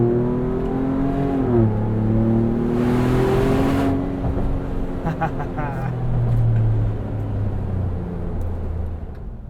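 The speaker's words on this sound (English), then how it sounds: "on first impressions, this MRT exhaust sounds great" A Ford Bronco with a 2.7L V6 and an MRT axle-back exhaust accelerates through the gears, heard from the cabin. The engine note rises and falls with shifts and holds a steady rumbling drone, with a person talking over it.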